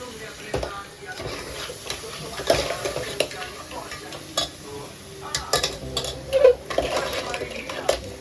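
Crabs dropped into hot masala paste sizzle and frying in a pan, with clattering utensil stirring and scraping throughout, someone talking nearby.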